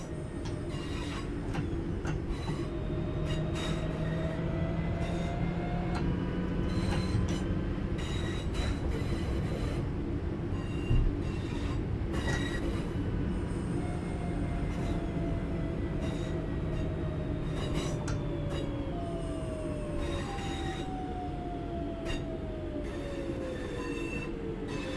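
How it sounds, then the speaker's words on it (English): A train in the video game Train Sim World 6 rumbles steadily while its brakes squeal in long, sliding high-pitched tones, repeating over a continuous low drone as it slows to a stop. "it's time to bring the train to a stop"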